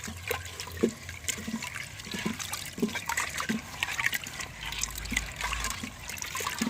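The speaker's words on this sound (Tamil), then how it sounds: "தண்ணி ஊற்றி நல்லா கலக்கி விட்டுருவோம்." Water splashes and gurgles as it is poured into a quail curry pot on a wood-fired stove and swirled, a close, continuous liquid sloshing with occasional clinks.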